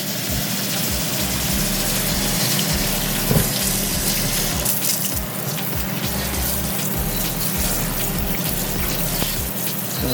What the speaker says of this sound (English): I'm going to wash it off.